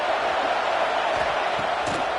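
A steady stadium crowd roar from an NCAA 26 college football video game, Arkansas versus LSU, a continuous dense wash of cheering that holds level throughout the short span.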